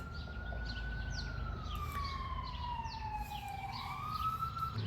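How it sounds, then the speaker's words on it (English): An emergency vehicle siren wails past at a distance, its pitch sweeping slowly up and down over steady background hum, fairly faint and with no talking. "Sorry, I wanted to allow the loudness of that siren to go by."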